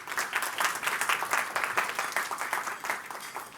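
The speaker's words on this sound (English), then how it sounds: "Can we give her a round of applause again?" Audience at a keynote dinner for a design summit claps in sustained applause, a fairly close, even patter of many hands with a slight rise and fall, with no voices over it.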